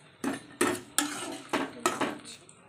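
A metal spatula knocks and scrapes against a frying pan as fried eggplant slices are lifted out, five or six distinct clanks at a steady pace, close and clear with no talking.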